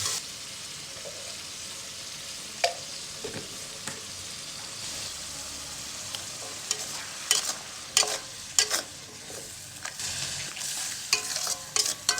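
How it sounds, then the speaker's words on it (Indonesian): Jengkol being stir-fried in a pan for balado, with a steady sizzle of frying and repeated scraping, clinking spatula strokes that grow busier toward the end, close and fairly quiet. "Masukkan jengkolnya, kawan-kawan. Putar-putar."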